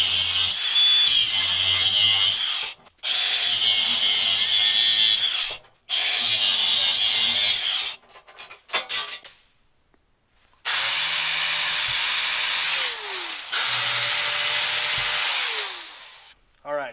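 A power tool cuts through steel trailer-coupler chain links in several loud, sustained bursts of a few seconds each, separated by short pauses and small metallic handling clatter.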